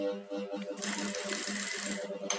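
A sewing machine runs a steady, fast stitching burst along blouse fabric, sewing a piping strip close to its middle seam, near and continuous with no talk.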